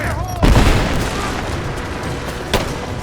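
Gunfire and booming blasts from a combat firefight in Rise of the Tomb Raider, with a heavy impact near the start and another sharp burst later over a sustained rumbling din.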